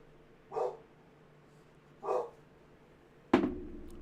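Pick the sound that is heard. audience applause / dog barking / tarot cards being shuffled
dog barking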